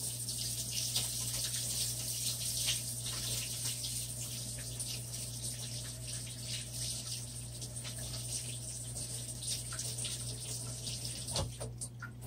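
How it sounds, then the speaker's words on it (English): Hands being washed under a running tap, a steady close rush of water with faint splashing shifts, no speech, lasting throughout. "Wash my hands off real quick."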